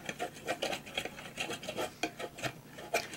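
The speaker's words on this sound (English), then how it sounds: "I want to blend it together with the flour, so mix it up like this." Melted butter and flour stirred together into a roux for étouffée: quick, rhythmic scraping and rubbing strokes of a utensil against a pot, close and soft, with no talking.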